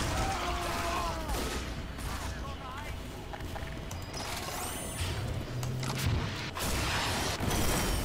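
Rocket launcher blasts and explosions from rocket jumping in Team Fortress 2 crash through a busy, noisy game mix, with several booming hits and mechanical clatter under a speaking voice.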